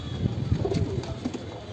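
Pigeon cooing in a loft, a newly arrived bird among the flock, with soft repeated low coos and some chirps close by over steady background noise.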